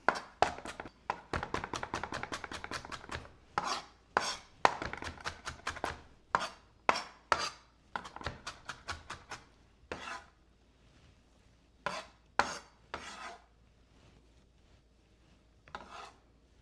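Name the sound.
knife chopping food into small pieces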